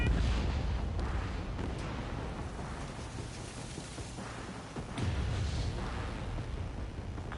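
Heavy rumbling blasts and gunfire from a jet taking hits in the Ace Combat 7 video game, a dense, loud, continuous barrage with a fresh surge about two-thirds through.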